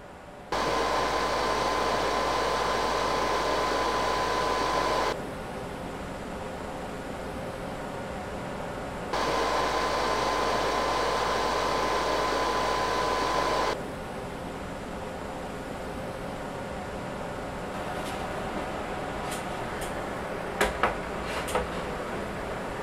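A PlayStation 4 Pro console fan roars with a steady broadband whoosh, switching back and forth between a louder open-lid section and a quieter closed-lid section, with a few sharp clicks near the end.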